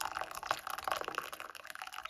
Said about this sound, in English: And I'm going to add milk now.